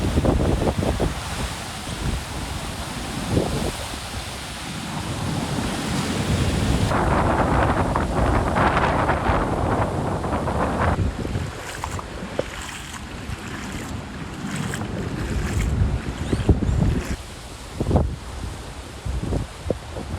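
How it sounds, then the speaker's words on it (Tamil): Hurricane Beryl's hurricane-force winds roar across Barbados, with heavy wind buffeting the microphone over crashing ocean waves. The storm is loud and continuous, surging in gusts with sharp bursts near the end, and no voices are heard. "பார்படாஸ் தீவில் பெரில் புயலால் சூறாவளி காற்று வீசும் காட்சிகள்"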